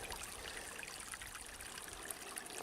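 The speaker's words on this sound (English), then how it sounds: "Little ripples over the rocks." A very shallow, clear, rocky stream ripples and trickles over stones near a low dam, a soft continuous babble heard up close and on its own.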